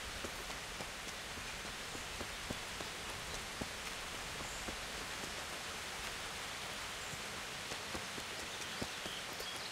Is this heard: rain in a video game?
yes